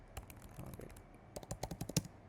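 Typing on a computer keyboard, quiet close key clicks in two uneven bursts with a short pause between, the second run faster and slightly louder.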